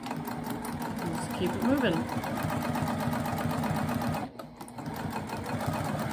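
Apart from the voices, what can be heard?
sewing machine stitching stay stitches across a seam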